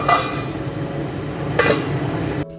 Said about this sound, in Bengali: এবার ঢাকনা দিয়ে একটু ফুটতে দেবো